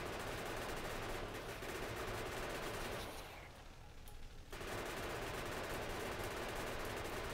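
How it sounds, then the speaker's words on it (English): Continuous rapid fire from a vehicle-mounted gun in the Factorio factory-building game, fired at alien biters. A steady machine-gun rattle pauses briefly for about a second and a half midway, then resumes at full intensity. "Oh, I love the gun on this thing."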